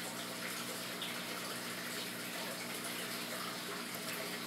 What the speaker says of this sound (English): you can see I have a sponge attached to my canister filter